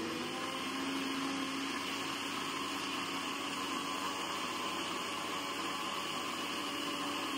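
A mixer grinder whirs steadily in a home kitchen on a rainy day, a continuous, fairly loud motor drone with a high-pitched whine running unbroken the whole time, no voices over it.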